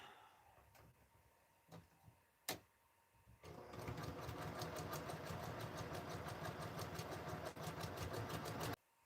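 A sewing machine runs steadily, stitching fabric scraps for a quilt. A few isolated clicks and taps come first, then the motor starts and whirs continuously at close range with a fast rhythmic needle chatter until it stops abruptly.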